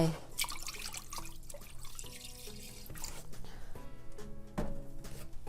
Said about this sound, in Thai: ให้เอาน้ำบริสุทธิ์นะคะ distilled water เนี่ย ผสมลงไป